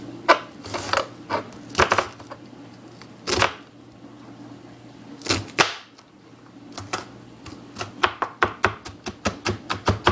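Knife chopping onions on a board in a home kitchen: sharp irregular chops, sparse at first, then a quick run of rapid, evenly spaced strokes near the end, close and clear with faint background hum.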